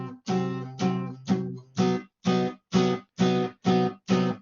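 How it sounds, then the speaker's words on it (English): A three-note dissonant chord is struck nine times in a steady rhythm, each strike clear and close before decaying into a short silence, with no talking. "I can make a chord that sounds like this."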